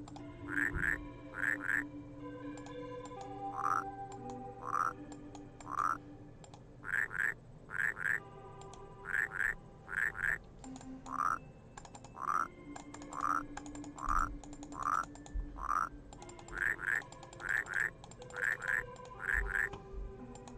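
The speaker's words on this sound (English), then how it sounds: "Frog flute." Frog flute in the puzzle game Rusty Lake Paradise plays a steady sequence of short, reedy, croaking toots, mostly in pairs and single notes at a regular pace over a quiet low hum, with no talking.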